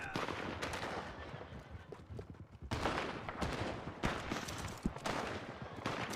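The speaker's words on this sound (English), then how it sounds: "Oh my, there's a lot of gun shots outside." Rapid bursts of gunfire ring out in the distance outdoors, overlapping shots that come in irregular volleys and clusters over several seconds, muffled from indoors, with no one speaking.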